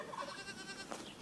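A gentle goat bleats close by, a short wavering cry over a faint background hiss.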